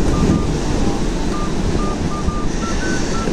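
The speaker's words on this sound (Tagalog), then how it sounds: "Tingnan nyo lang, narinig nyo yung hangin." Strong gusting wind by the sea during a typhoon-force blow, a loud continuous roar buffeting the microphone throughout, with faint tonal whistles threading through and no speech.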